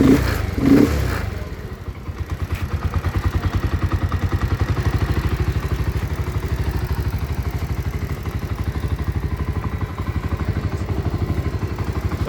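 A secondhand Dayang 80 motorcycle engine freshly filled with new engine oil, running close and steady at a rapid, even idle putter with light mechanical clatter, heard alone after a brief opening bump.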